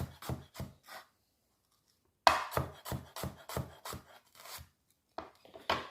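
A knife chops an onion on a board. Three quick strikes come first, then a pause, then a rapid run of about seven chops, and two more after another short pause, all close and fairly quiet.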